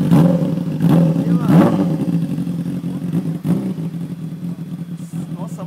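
A Fan 600R motorcycle engine revs in a few rising bursts nearby, then settles into a steady rumble while people talk over it.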